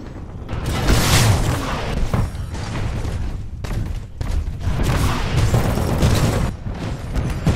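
Rocket explosions in a first-person shooter game, a run of loud booming blasts and thuds in close succession, with short dips between bursts.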